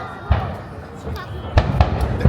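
Fireworks at the Yokohama fireworks festival, a handful of deep booming bursts echoing across an open evening setting, with excited voices between the blasts.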